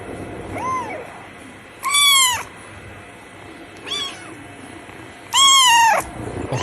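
Kitten meowing in a cat meme clip, several rising-falling meows of varying length, the loudest two clear and close, with a soft background hiss and no talk.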